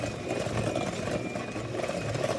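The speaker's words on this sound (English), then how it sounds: "And then we're going to continue with that portable mixer." A portable hand mixer beats eggs and vanilla into blonde brownie batter, giving a loud, steady motor whir that runs unbroken throughout with no voices.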